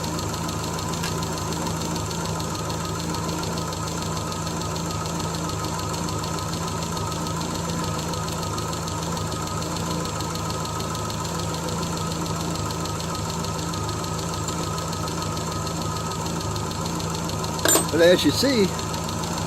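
A 1975 Triumph Spitfire 1500 engine idles evenly after its timing has been set, a steady close mechanical hum with faint ticking, while someone talks over it and a brief clunk sounds near the end.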